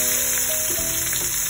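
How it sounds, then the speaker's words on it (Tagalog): Tofu (tokwa) pieces fry in oil, giving a close, continuous sizzle and crackle with a few soft pops across the short stretch. "Una po natin gagawin ay siyempre ipiprito po muna natin ang ating tokwa bahagya."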